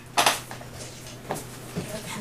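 A few light clinks and scrapes of glue and water being stirred in a plastic cup, brief and close, with quiet gaps between.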